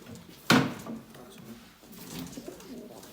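Soft, low cooing murmurs close by from old-lineage Arab pigeons, with a sharp knock or clatter near the start.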